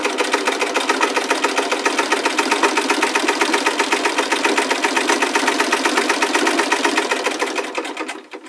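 An antique foot-treadle sewing machine stitches steadily in a fast, even mechanical rhythm, loud and close, running alone for about eight seconds before slowing to a stop.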